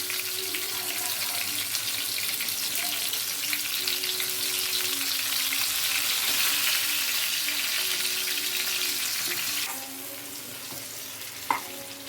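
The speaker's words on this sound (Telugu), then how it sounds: "పరువలు రెండు వైపులా తిప్పాను బాగా ఏగాయి" Steady, loud sizzle of stuffed parwal (pointed gourd) frying in hot oil, a continuous crackling hiss that holds for the whole stretch and eases slightly near the end, with a faint clink just before it stops.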